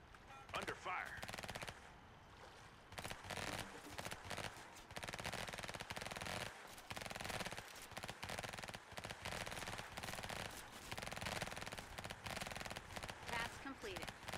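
Video game machine-gun fire rattles in sustained bursts across most of the stretch, loud and dense, with brief gaps and game voice lines mixed in.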